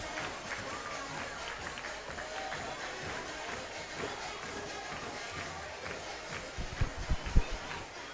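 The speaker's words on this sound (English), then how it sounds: "Noisy time for the Michigan crowd." A large crowd at a Michigan Wolverines men's soccer match against Penn State keeps up a steady, dense roar of cheering and chatter, with a few louder bursts near the end.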